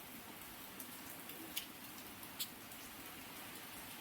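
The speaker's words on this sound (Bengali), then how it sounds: "মুসলধারে বৃষ্টি। ওটাই হলো বৃষ্টি জলে পড়ছে।" Steady rain pours into standing water during a heavy downpour, a dense even hiss with a couple of brief sharper drips, no voices.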